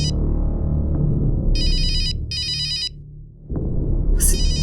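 A phone ringtone plays in short electronic bursts, two rings with a pause between, over a steady low musical background with no talk.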